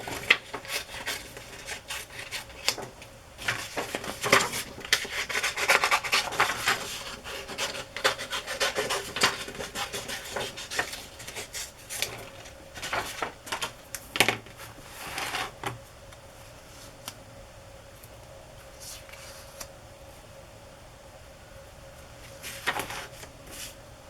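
Scissors snip loosely through paper pieces for a collage, giving a run of close, dry rasping cuts that come in bursts, then thin out toward the end.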